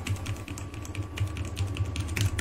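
Close computer keyboard typing while playing Axie Infinity arena, a steady patter of rapid light keystrokes with no voices.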